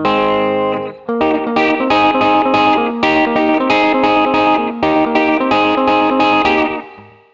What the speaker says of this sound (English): it's also got a spring reverb as well